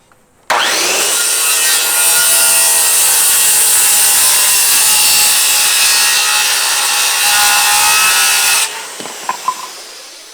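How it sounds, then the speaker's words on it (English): A saw cuts through rough lumber for a butcher block tabletop, one loud continuous rasping stroke lasting several seconds, then it stops and a few small knocks follow. "We're cutting the pieces for our tabletop"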